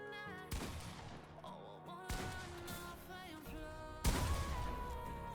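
Video game gunfire in bursts, with three loud volleys striking at the start, around two seconds and near four seconds, each decaying into ringing reverberant tails over a steady musical backdrop.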